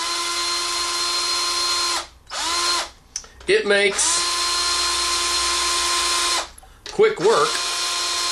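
A power drill spins a guitar string winder in loud, steady whirring bursts, stopping and restarting twice, while someone talks briefly over it.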